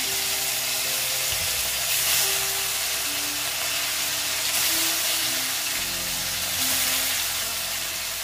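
Four pieces of katla fish, rubbed with lemon juice, salt and turmeric, frying in hot oil, giving a steady broad sizzle and hiss that holds at an even level throughout, with no voices.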